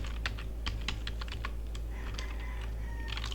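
Continuous typing on a computer keyboard while entering Python code, with quick, uneven clusters of clicks close to the mic over a steady low background hum.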